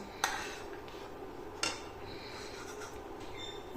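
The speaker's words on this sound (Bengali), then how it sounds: "বাদামগুলো একটা বাটির মধ্যে উঠিয়ে রাখছি।" Fried nuts tipped into a bowl for carrot halwa, with a few sharp clinks of metal against a bowl spaced apart over a quiet kitchen background.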